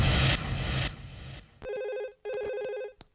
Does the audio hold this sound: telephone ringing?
yes